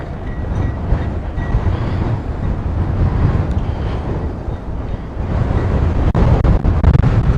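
Strong wind blows outdoors on county property in Weld County, a loud, continuous rumbling roar buffeting the microphone with no pauses and no voices.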